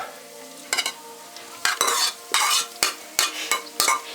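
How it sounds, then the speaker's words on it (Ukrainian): Carrots tip into frying onions for risotto and are stirred, giving a low sizzle broken by repeated scraping stir strokes in bursts, close up with no talk. "Все, ми більше цибульку не доводимо, щоб вона в нас не згоріла. І висипаємо туди моркочку."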